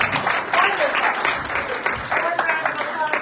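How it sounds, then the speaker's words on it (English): A church congregation applauds at a Sunday celebration service, a dense, steady wash of clapping from a crowd that carries evenly through the moment with no break. "round of applause for Susan"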